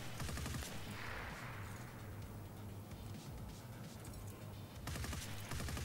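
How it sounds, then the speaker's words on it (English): An RPD machine gun fires in a shooter video game, giving rapid, repetitive bursts that sound faint and distant and continue without pause. "RPD. Oh yeah. More loud machine guns, please."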